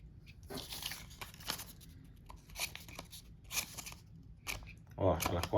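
Leatherman Wave multitool scissors snipping, several short crisp cuts spaced irregularly, close and fairly quiet, with a louder burst near the end.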